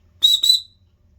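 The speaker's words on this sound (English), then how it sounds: "Well, that's my story about how to make a whistle." An emergency whistle made from a corn can gives two short, shrill blasts in quick succession, close and loud in a quiet room, the second trailing off.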